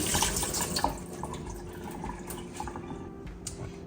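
Running tap water rinsing dried beans and lentils in a kitchen sink, a continuous splashing flow with small drips and clinks heard close up and alone.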